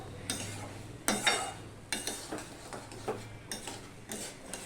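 Banana stem thor curry, meatless and without onion or garlic, stirred in a pot after ghee goes in; a spoon scrapes and knocks in regular strokes over a low sizzle, close, no voices.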